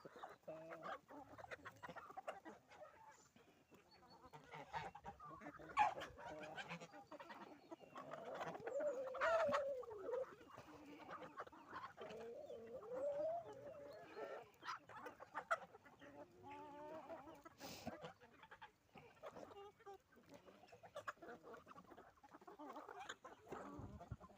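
Geese and chickens cluck and chatter together at a distance at morning feeding time. Soft scuffling runs throughout and a few sharper honks rise over the flock as the geese drive others away.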